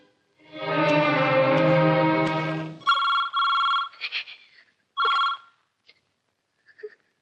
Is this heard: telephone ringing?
yes